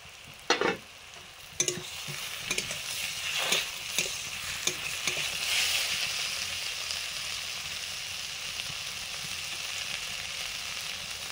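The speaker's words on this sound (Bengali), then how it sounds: "আলুগুলোর সঙ্গে পোস্তটা একটু নেড়ে জল দিয়ে দেবো।" Potatoes with ground poppy seed paste stirred in a pan, a few sharp scraping knocks early on over a steady soft sizzle that runs throughout.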